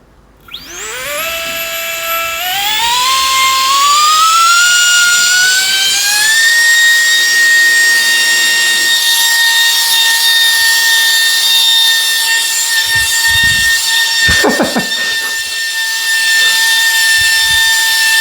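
A Rex-Creations Pad Pal V5 mattress inflator spins up from a low whine into a loud, steady high-pitched drone on its high setting, holding constant with a brief rustle partway through and no talk.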